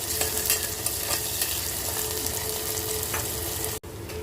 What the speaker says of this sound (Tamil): வெங்காயத்தை நல்லா வதக்கி விட்டுக்கோங்க.